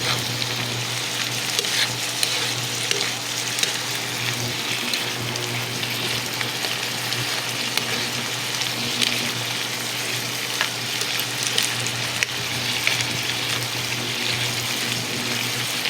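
Ground pork sautéing for ginisang sayote (chayote with pork) sizzles and crackles steadily in the pan, with occasional stirring and scraping, alone without voices.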